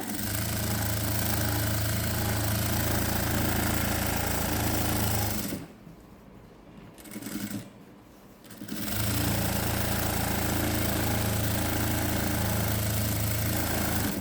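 A sewing machine stitches a Patiala pant hem with a steady, fast mechanical chatter, stops for a couple of seconds with a brief burst in between, then resumes running continuously.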